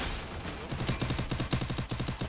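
Rapid bursts of automatic gunfire in a 4v4 online shooter match, dense and rhythmic, with rounds hammering in quick succession at fairly close range and no speech over them.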